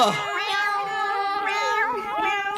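A cat meows in a video game with a long, loud, wavering cry that rises and falls continuously, close and clear.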